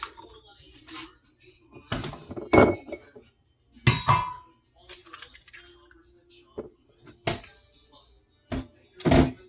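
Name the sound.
adding two eggs to turkey meatloaf mixture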